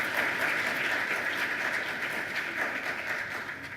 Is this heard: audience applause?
yes